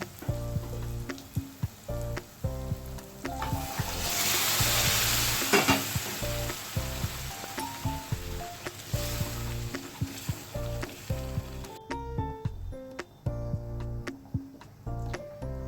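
Cooked moth beans being stirred into a hot spice masala for misal, frying with a steady sizzle and repeated scraping strokes of a spoon against the pan, loud and close with background music playing throughout.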